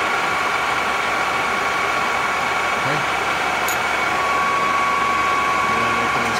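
A 1995 Longem 20/28 by 80 inch gap bed gear head engine lathe runs its spindle at 1250 RPM, giving a steady, loud mechanical hum and whine with constant tonal lines that hold unchanged throughout.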